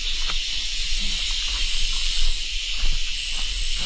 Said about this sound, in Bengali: সন্ধ্যা নামতেছে, যার কারণে ঝিঝি পোকার ডাকটাও ভেসে আসতেছে।